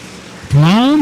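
Racing kart engines during a kart race, a loud rising engine whine that bursts in halfway through and climbs steadily in pitch as the kart accelerates, after a quieter background of track noise.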